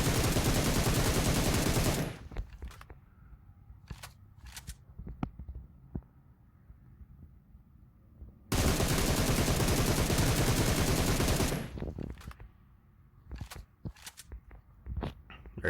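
Two long bursts of rapid automatic gunfire from a video game weapon fitted with a compensator, loud and sustained, separated by quieter gaps with light clicks and shuffling.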